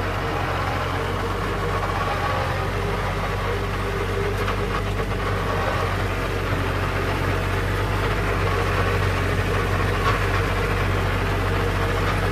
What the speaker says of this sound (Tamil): அதே ரொட்டவேட்டர் வந்து போட்டு ஓட்டிகிட்ருக்கேன்